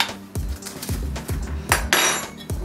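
A spoon mixes sweetener into a thick protein bar mixture in a bowl, making rhythmic knocking and scraping clinks, about six distinct strokes in quick succession, close up and fairly quiet.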